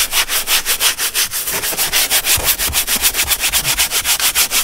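Brush scrubbing a leather car seat with Gyeon Leather Coat cleaner into crevices and stitch lines, giving fast, rhythmic back-and-forth swishes that stay close and loud throughout, with no talking.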